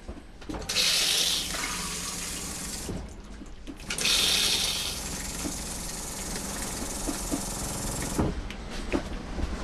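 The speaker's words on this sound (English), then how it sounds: "plumbed in, cleaned up. Running water." Running water gushes from a freshly plumbed tap into a trailer sink, a loud close hissing flow that surges twice, eases, then gives way to quieter splashing and clatter.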